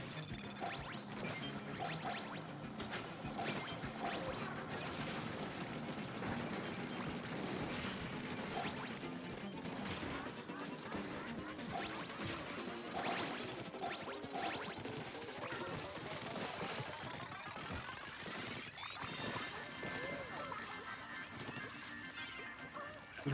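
Weapon shots firing in Splatoon 3 Salmon Run: a dense, continuous stream of rapid shots and splatty bursts over busy game noise, with a voice talking throughout.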